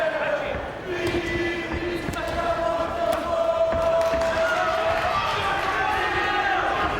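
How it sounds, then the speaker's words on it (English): Welsh supporters on a balcony above a boxing ring at a super middleweight prizefighter event, their chanting and cheering rising as a sustained crowd roar beneath close commentary. "A crowd of Welsh supporters just above us on the balcony, making their voices heard"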